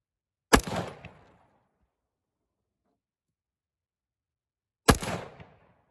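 Two single gunshots at an outdoor gun range in Nebraska, a few seconds apart, each a sharp loud crack with a short echoing tail, then quiet.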